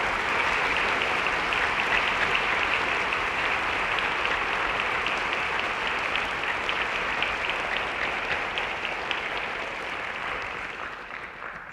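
A symposium audience applauds in a long, steady, dense round of clapping that holds at an even level for nearly twelve seconds before easing slightly at the end, with no voices over it.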